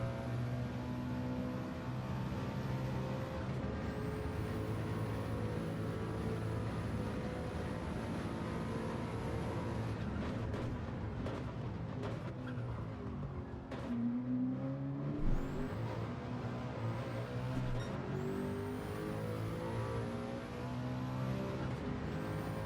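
Race car engines in the Gran Turismo 7 video game during a time trial lap, a steady dense engine roar with rising and falling revs and gear changes, running continuously without voices.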